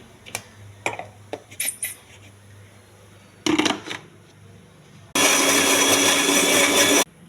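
A kitchen blender whirs loudly for about two seconds as it grinds tomato paste, preceded by scattered clicks, taps and handling knocks of setting up the jar.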